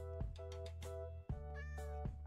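Minecraft cat meowing in repeated short mews, several calls spread across the clip over a steady droning game music bed, fairly close and clear.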